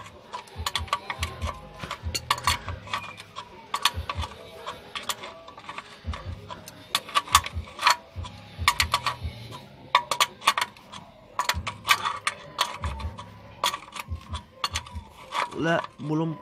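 Ratchet tightening a car's oil drain bolt, rapid bursts of close metallic clicking in irregular rhythm with short pauses between strokes, plus occasional low knocks, with someone speaking in between.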